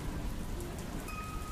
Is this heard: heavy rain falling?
yes